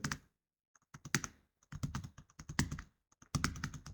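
Fast, close typing on a computer keyboard during spreadsheet data entry, with bursts of crisp key clicks broken by short pauses and no talking.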